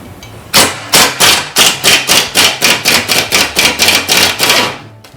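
A metal metric socket is hammered onto a rusty bolt head on a car's rear components, about fourteen loud, close, evenly spaced blows in a steady rhythm with no talking.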